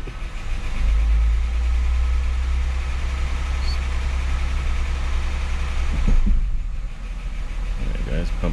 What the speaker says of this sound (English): Just fire it up. You want to go through the gears.